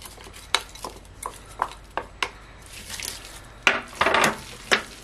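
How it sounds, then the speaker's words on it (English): Abacha salad ingredients, ugba and fried crayfish, are stirred together in a bowl, with a series of close, uneven scraping clinks as the spoon hits the dish. A louder cluster of clatter comes near the end. "Turn everything together."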